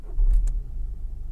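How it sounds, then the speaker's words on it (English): A VW Passat engine starts with a short, deep rumble that swells and then settles, and a couple of faint, high chirps sound above it. "Now we just start the vehicle."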